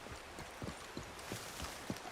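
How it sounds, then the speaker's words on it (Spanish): Horse hooves in the video game Red Dead Redemption clip-clop at a steady walking pace, about five soft, evenly spaced thuds, moderately close over a faint background hiss. "Vamos a coger nuestro caballo."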